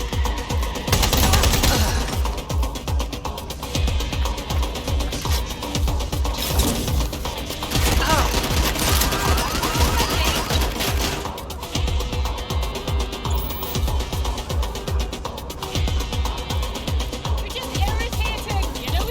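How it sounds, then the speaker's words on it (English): Gunfire in Watch Dogs: Legion, with a weapon jamming: bursts of rapid shots and fusillades over a loud, continuous mechanical backdrop, with voices talking over the action. "Gunfire!"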